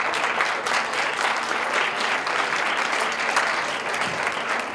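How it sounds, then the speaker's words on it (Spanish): A lecture hall audience gives a strong, sustained round of applause to welcome Dr. Bernardo González Arechiga before his conference on renegotiating NAFTA. The clapping is loud and even, with no speech over it. "Un fuerte aplauso, por favor."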